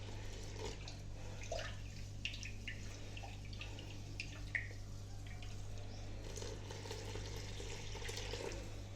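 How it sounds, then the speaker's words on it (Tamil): Warm salt water is poured into murukku flour, making a quiet, continuous trickle with a few small splashes over a low steady hum in a home kitchen. "போட்டு உப்பு தண்ணியை ஊற்றி கரைக்கணும்."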